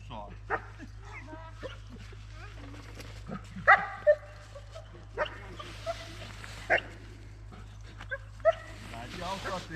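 Dog during a pony temperament test in Hämeenlinna whimpering and yipping in short, moderately near bursts among handling noises, with a person talking in Finnish throughout.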